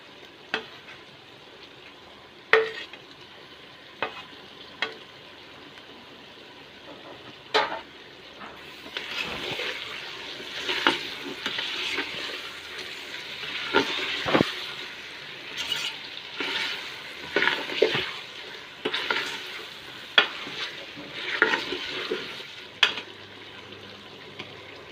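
Beef korma sizzles and fries steadily in a pot as a medium tomato goes in, with scraping stir strokes and occasional clinks of the spoon against the pan throughout.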